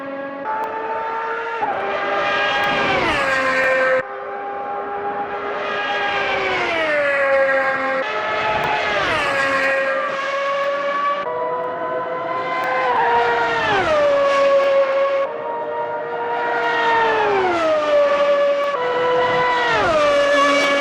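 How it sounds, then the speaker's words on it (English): A McLaren MP4-6 3.5-liter V12 race car in Automobilista 2 screams up a hill, loud and close, its engine note climbing and dropping through a rapid series of upshifts over some twenty seconds. "I'll add in the shot of the V12 coming up the hill"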